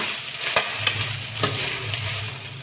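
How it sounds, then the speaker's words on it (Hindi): Soya chunks roasting in a kadhai, a steady close sizzle with a few sharp scraping stir strokes breaking through, continuous and without talk. "हम इसी कढ़ाई में सोयाबीन भून लेंगे।"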